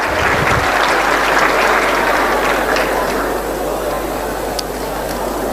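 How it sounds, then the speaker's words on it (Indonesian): Applause from an audience at an Islamic lecture hall event, a loud, dense, steady roar of clapping with a low hum underneath, lasting throughout. "Berikan tepuk tangan, berikan plus untuk semua."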